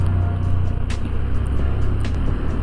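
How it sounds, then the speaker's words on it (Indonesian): A Honda Beat Deluxe scooter with a modified engine engine-braking down a slope, a steady low engine drone with a droning hum and wind rush, no throttle surges. "Jadi tanpa direm pun ini pakai engine brake doang udah nahan gitu, lebih cepat ke berhentinya."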